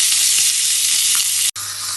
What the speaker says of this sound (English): So they've had a minute now of searing on the fat.